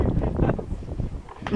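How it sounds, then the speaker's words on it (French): Wind gusting across a microphone outdoors on a warm day, a steady low rumbling buffet that swells and eases for a moment without pause. "Il y a du vent pas mal."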